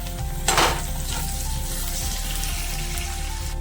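Ginger, garlic and green chili paste hits hot oil with fried onions in a pan, bursting into a loud sizzle with a sharp crackle early on, then settling into a steady, dense frying hiss.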